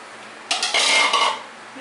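A spoon stirring spinach into roasted tomato soup in a pot, with a short burst of scraping and clinking against the metal lasting under a second, close and fairly loud.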